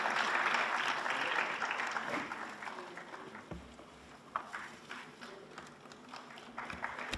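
Audience applause welcoming new book releases at a Ghalib Institute literary event, steady dense clapping at first that gradually thins and fades, with a few louder individual claps near the end.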